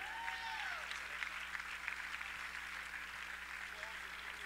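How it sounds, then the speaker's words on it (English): Crowd applauding the Carson-Newman men's and women's basketball teams at a Senior Day and Parents Day ceremony, a steady wash of clapping filling a gym, with a voice speaking over it. "round of applause for your Carson-Newman men's and women's basketball team"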